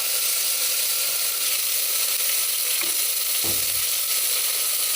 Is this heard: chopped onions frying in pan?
yes